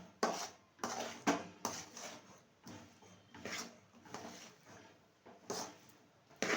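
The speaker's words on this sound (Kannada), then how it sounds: "ಸೊ ಈ ಲೋಟಸ್ ಸೀಡ್ಸ್ ಹಾಕಿ ಈಗ ಮಿಕ್ಸ್ ಮಾಡ್ತಾ ಇದ್ದಾರೆ" Lotus seeds are stirred in a pan for a sweet, with a spoon scraping and knocking against the metal in quiet, irregular bursts of clatter.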